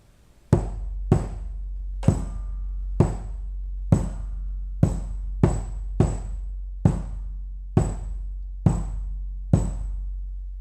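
A drum strikes only the accented notes of a rhythm at a slow, steady pace, about a dozen sharp, evenly spaced hits that ring out close and loud over a low sustained hum, with no talking.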